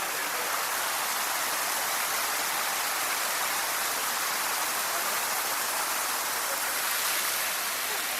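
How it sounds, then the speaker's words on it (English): A small waterfall at a Tokyo attraction in the Asakusa area pours steadily, its broad hiss filling the whole stretch evenly and close by, with no break or other sound over it. "We got like a little, I guess a mini waterfall you call it."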